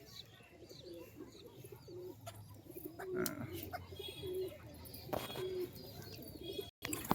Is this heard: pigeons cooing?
yes